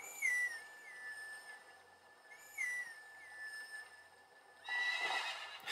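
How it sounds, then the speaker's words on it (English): A horse whinnies repeatedly in the Zelda game Twilight Princess HD, its whinny rising and falling in three clear bursts over a steady whistled melody, Epona's Song played on a blade of grass, with a brighter flourish near the end. "Go ahead and play some Epona song."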